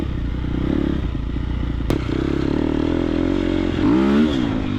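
A Triumph TF250X motocross dirt bike pulls away at half throttle, its engine close and loud, with a sharp knock partway through and a rising rev near the end.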